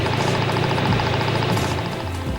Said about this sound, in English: We can tell whether or not the injectors are operating normally by listening to their sound using